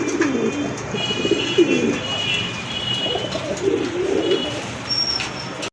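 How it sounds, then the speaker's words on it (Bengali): Fancy crested pigeons kept for sale coo close by in repeated soft, throaty bursts, two or three phrases following one another with brief pauses between. "আরেক জোড়া কবুতর দেখেন"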